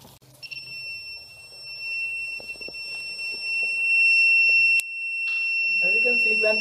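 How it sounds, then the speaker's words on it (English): A smart dustbin's full alarm sounds a shrill, continuous electronic beeping tone, with some clunks and handling noises underneath and a sharp click partway through. "it starts beeping ahead and indicates that we have to empty the garbage"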